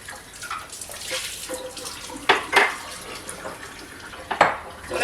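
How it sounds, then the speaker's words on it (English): Water runs from a tap into a cup or bowl of hot soapy water, splashing and gurgling steadily, with a few sharper clinks and splashes near the end and no talk. "put this one in a bowl of, or cup with hot soapy water"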